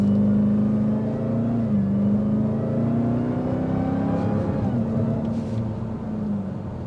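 A 2025 Dodge Durango SRT Hellcat Hammerhead accelerating hard, its engine droning loud and close from inside the cabin, pitch climbing through gears with brief dips at shifts.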